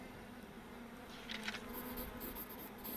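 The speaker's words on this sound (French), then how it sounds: "Les abeilles mécaniques." Mechanical bees in the video game Europa give off a faint, steady insect-like buzz that hums continuously under a low background drone.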